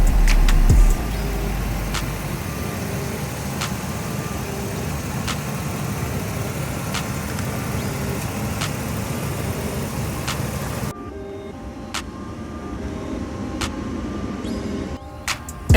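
A freshly serviced 6.0 liter V8 Vortec gas engine in a delivery truck idles steadily, a low continuous rumble heard alone with no talking, its tone thinning slightly near the end.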